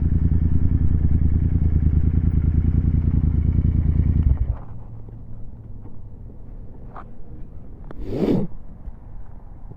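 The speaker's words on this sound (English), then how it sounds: "It might be a Ducati Scrambler." A Ducati Scrambler motorcycle, its engine rumbling loud and close for about four seconds before it fades off into the distance, leaving quieter background noise with a brief rustle near the end.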